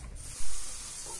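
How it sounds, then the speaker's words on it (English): Hot oil sizzles and hisses in a frying pan, a steady bright crackle that swells briefly louder, close up. "the oil is sizzling"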